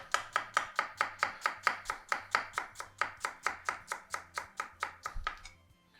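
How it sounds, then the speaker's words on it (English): A knife slices finely and quickly on a cutting board, about twenty crisp, evenly spaced chops in a brisk steady rhythm, close and clear with no talking, ending in a brief clatter. "slice these nice and finely, like so"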